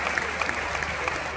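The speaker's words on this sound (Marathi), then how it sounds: "जोरदार टाळ्या आपण त्यांच्यासाठी वाजूया" An audience gives poet Ashok Naigaonkar a dense, steady burst of applause, close and loud throughout.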